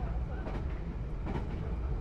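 A continuous low rumble of a moving train with faint rhythmic rattling, heard from inside a carriage, steady and muffled throughout.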